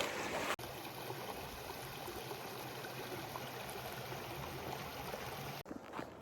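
Mission Creek flows as a steady, even rush of water along the Pacific Crest Trail between Banning and Big Bear, with no voices, briefly cut off at the start and end.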